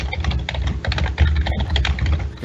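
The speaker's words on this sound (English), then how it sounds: "I can hear like 5 people typing" Keys on several computer keyboards clatter at once in overlapping, uneven bursts, close and fairly loud, with a steady low hum beneath and no talk.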